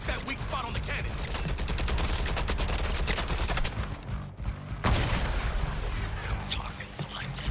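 Rapid gunfire in Suicide Squad: Kill the Justice League, aimed at a weak spot on a giant cannon during the Brainiac finale, crackling in dense bursts amid loud combat noise, with voices talking over it.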